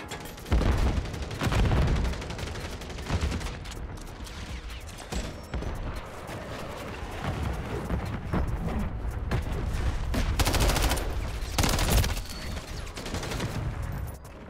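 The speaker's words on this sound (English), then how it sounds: "That guy hit me with a shotgun." Dense gunfire fills a Call of Duty MW3 match, with loud, close bursts and scattered heavy blasts overlapping in rapid succession, broken by brief lulls.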